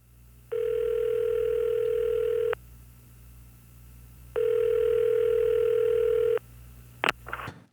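Two long telephone tones sound during an outgoing phone call, each lasting about two seconds with a pause between, clear and steady, followed by a brief click and rustle as the line connects.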